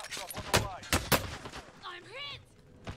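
Gunfire in Call of Duty: Modern Warfare Warzone, with several sharp, loud shots in quick succession and scattered game effects between them, no speech in the clip.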